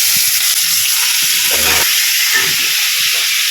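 Food, including chicken and egg, lightly frying in a pan makes a loud, constant hissing sizzle up close, with a few low knocks and stirring sounds beneath it.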